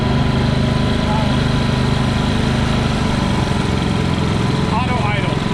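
Two Ryobi 3400W inverter generators run side by side, a steady, fairly loud mid-low engine drone with a constant tonal hum, holding level throughout while people talk over it.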